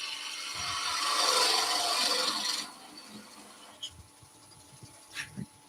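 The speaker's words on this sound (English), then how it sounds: "let's just stop the lathe" A wood lathe spins a resin banksia apple, giving a steady whirring rub and rasp that runs for a couple of seconds and then cuts out, followed by a few faint clicks and knocks.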